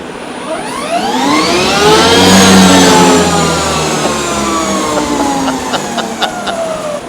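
A Harley-Davidson LiveWire electric motorcycle revs up on a demo ride in Huntington Beach, a rising electric whine with a broad whoosh that climbs in pitch, peaks, then holds steady, loud and close, with no talk.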